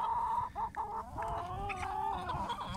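Ornamental chickens clucking and murmuring continuously nearby while drinking, a busy flock with overlapping calls over a low background hum.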